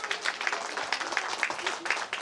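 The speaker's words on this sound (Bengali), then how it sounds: "আমরা হাততালি দিই জোরে হাততালি দিই" An audience at a primary school's platinum jubilee celebration applauds loudly on stage cue, with rapid, dense clapping that swells in uneven bursts across the whole stretch.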